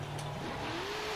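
A 1,750 horsepower Ford SVT Lightning pickup in the racing game Forza Horizon 5 roars under hard acceleration, the engine note climbing in pitch over a short loud burst with tire noise.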